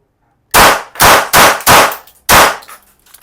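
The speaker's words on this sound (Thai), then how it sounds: "ทดสอบปืนแบงกันนะครับ อุดหูด้วยนะในร้าน 5 นัดนะครับ" Five loud blank rounds fired from a SIG Sauer P320 Sport Turkish blank pistol inside a shop, four sharp close bangs in quick succession followed by a fifth after a short pause, each ringing off briefly.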